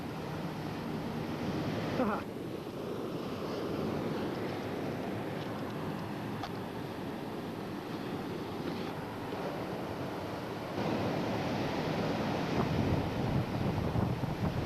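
Ocean surf breaking on a Hawaii beach, a steady broadband wash that swells louder near the end, mixed with wind buffeting the microphone and faint voices in the background.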